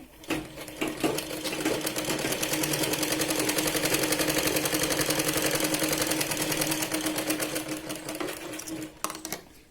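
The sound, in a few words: sewing machine stitching sleeves of a Punjabi dress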